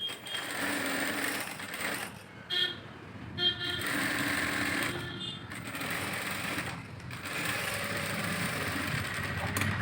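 A sewing machine stitching a lining blouse runs in steady whirring bursts with short stops, close and moderately loud, over faint background noise.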